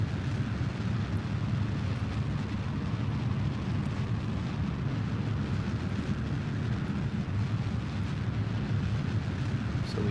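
Rocket engines throttled to full power in Kerbal Space Program, a loud, continuous broadband roar that holds steady for the whole stretch with no talk over it.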